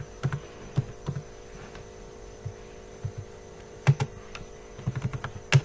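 Keys on a computer keyboard are tapped in sparse, irregular clicks while code is written, set against a steady electrical hum with no voices.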